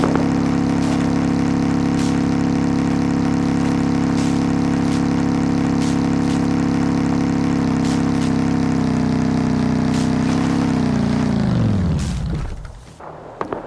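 A motorbike in the survival video game Rust hums at a steady pitch for roughly eleven seconds, then the engine winds down and fades out.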